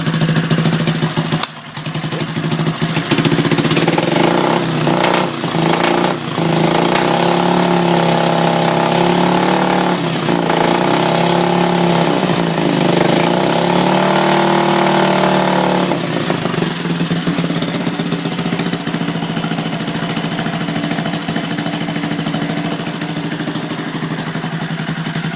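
A rebuilt Briggs and Stratton 2HP small engine runs steadily and loudly close by, holding an even idle with slight shifts in pitch, first start after the rebuild, still needing carburetor tuning.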